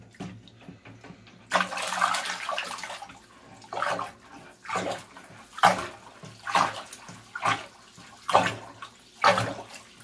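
Lemon juice stirred into a container of water to lower its pH for plants, heard as repeated swirling, sloshing surges that come in regular bursts for several seconds, close and fairly loud with no talking.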